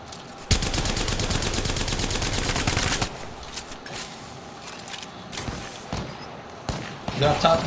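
Rapid automatic gunfire from the Apex Legends video game rattles loudly for a few seconds, followed by scattered single shots and impacts as a voice talks over the action.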